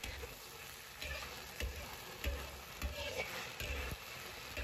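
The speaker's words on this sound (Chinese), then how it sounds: "继续煸炒至茄子入味" Eggplant being stir-fried with sauce in a wok: a soft, steady sizzle runs throughout, broken by repeated dull knocks of a spatula against the pan at a moderate pace, fairly quiet and close.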